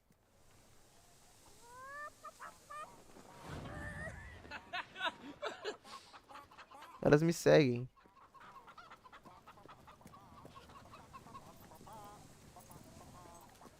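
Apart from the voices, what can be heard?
chickens clucking in the video game Fable 3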